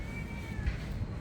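A fat cat gives a short, faint meow against a low background rumble on a Bangkok evening.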